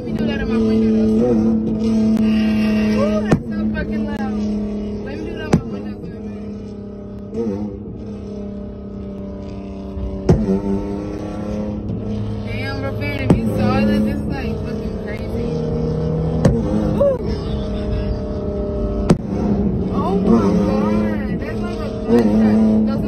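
A tuned car revs hard while cutting up and shooting flames, its engine rising and falling in loud bursts punctuated by sharp pops and bangs, with voices talking over it.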